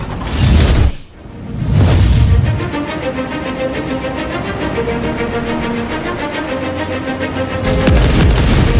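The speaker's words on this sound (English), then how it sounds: "The roar from primary armament fire is a three-layered sound. The attack, the body of the sound, and the tail of the shot." Heavy battleship main-gun salvos in World of Warships, the video game: two loud, deep booming blasts in the first two seconds, then a sustained rumbling, mechanical tail with tonal reload-mechanism texture, and a further boom near the end.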